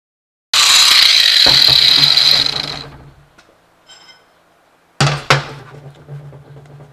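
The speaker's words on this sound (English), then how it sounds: "We're going to be going ahead and cutting the springs." Coil spring from a 1965 Corvair being cut while clamped in a vise: a loud, high-pitched grinding whine for about two and a half seconds fades out, then after a pause a second cutting burst starts with sharp knocks.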